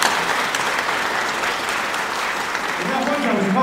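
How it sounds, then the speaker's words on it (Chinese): A church congregation at a Sunday service claps in steady, sustained applause filling the room, with a voice heard over it. "我们在这拍手谢谢他们"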